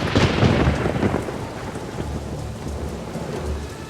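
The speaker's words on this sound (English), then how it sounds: "And the rain was on the earth 40 days and 40 nights." Thunderstorm with heavy rain in an animated Bible story of Noah's flood: a loud rolling thunder crack at the start fading into a dense, steady hiss of rain pouring down, with further low rumbles underneath; no voices.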